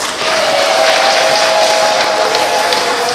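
A church congregation at a Sunday confirmation service claps steadily, a dense, loud wash of applause that holds evenly from start to finish with no pauses.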